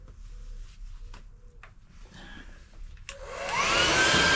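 A heat gun switches on to warm vinyl wrap on a Kawasaki Z900RS, its blowing hiss rising loud and close in the final second after a few quiet handling clicks.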